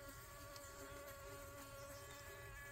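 Steady insect buzzing at a native honeybee hive where a wasp has arrived, a continuous close drone with layered whining tones and no speech.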